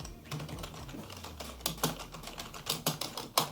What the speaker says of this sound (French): Et je vais faire entendre le bruit du clavier.